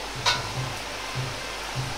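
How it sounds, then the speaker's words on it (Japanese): A cabbage and egg omelette cooks in a pan for a tenjin-style rice bowl, giving a quiet steady sizzle with soft low scraping bumps as the pan is shaken, and no talking. "裏面を鍋を揺すりながら焦げないように軽く焼き目をつけます。"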